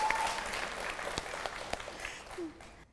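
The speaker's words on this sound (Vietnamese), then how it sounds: "Vỗ tay" A TV studio audience claps briefly. The applause is moderate and fades over about three seconds, with a few distinct louder claps and a faint voice near the end.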